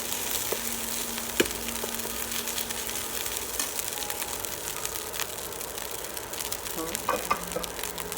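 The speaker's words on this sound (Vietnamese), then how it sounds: "mình xé ra chiên chung với trứng" Shredded fish fried with egg and rice in a pan, a steady close sizzle with occasional scraping and stirring clinks from a utensil, continuous and without talking.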